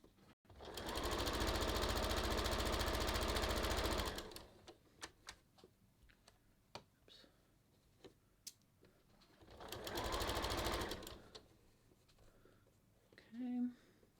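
A sewing machine stitches a kangaroo pocket onto a top in two loud, steady whirring bursts, one long and one shorter. Scattered clicks and handling noises, likely pins being pulled, fill the quieter stretch between them.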